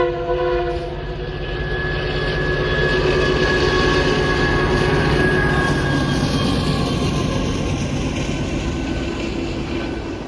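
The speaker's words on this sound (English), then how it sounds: "we have an EMD GP-20C leading a KCS AC-44 and another CP GP-38." Freight train passing at close range, an EMD GP20C locomotive leading a KCS AC44 and a CP GP38, giving a steady, loud diesel rumble and rolling rail noise with sustained engine tones throughout.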